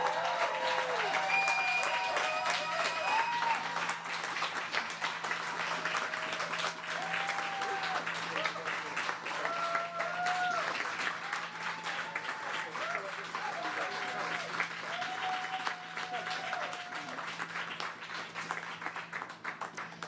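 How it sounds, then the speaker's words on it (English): Crowd applause at a federal election event for the Green Party of Canada leader: steady, fairly distant clapping throughout, with a steady hum and faint voices beneath it. "please join me in applause for the Leader of the Green Party of Canada, Annamie Paul."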